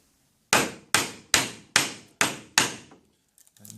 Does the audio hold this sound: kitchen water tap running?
no